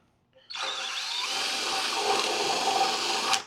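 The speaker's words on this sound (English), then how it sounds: "So I just use a 3/8 drill bit and" A drill with a 3/8-inch bit starts abruptly and runs in a continuous high-pitched whine as it bores out holes, stopping sharply after about three seconds.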